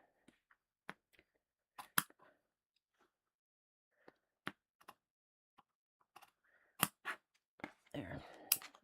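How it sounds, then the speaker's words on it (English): Scissors snipping through fabric while sewing a bag, with sparse sharp clicks and cuts spread out, nearby and fairly quiet, ending in a denser burst of rustling handling. "I'm just going to use the scissors on the other one"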